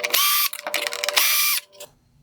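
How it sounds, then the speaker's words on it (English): Two bursts of a power driver whirring as it backs screws out of the ballast on a 2019–2021 Toyota RAV4 Hybrid LED headlight, close and loud with a brief pause between, ending in quiet. "Next, I'm going to remove the 2 screws holding in the ballast."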